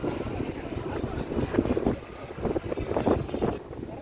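Strong gusting wind from a storm buffeting the microphone, a loud rough roar that swells and eases in waves.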